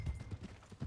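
Horse hooves clip-clopping in the game Red Dead Redemption 2, a quick run of soft, muffled thuds in an uneven walking rhythm, close and brief with no talking over it.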